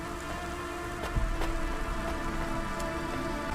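Rain falls steadily in a rainy theater setting in the video game Cloudpunk, a dense, even patter with a few sharper drips, loud and continuous with no talking.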